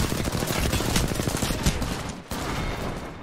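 Dense gunfire fills an Apex Legends match, with rapid overlapping bursts and shots firing almost without pause, loud and close, and a short dip before the barrage resumes.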